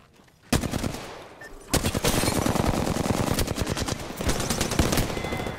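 Rapid automatic gunfire from the Apex Legends game, loud and close, comes in dense sustained bursts with a short break near the start and a slight dip before firing picks up again.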